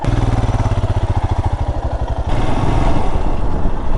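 A motorcycle engine idles with a pulsing, chugging rhythm, then its note shifts and roughens as the bike revs and moves off.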